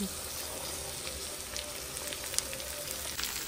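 Beans and carrot pieces sizzle in a pan with curry leaves, a steady crackling fry with light pops throughout, fairly close and alone without talk.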